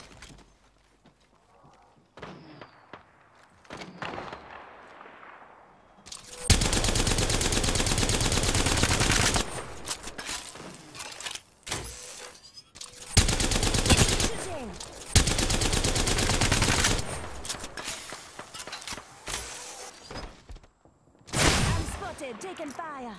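Rapid automatic gunfire from Apex Legends rattles in long, loud sustained bursts separated by short pauses and single shots, with game voice lines in between.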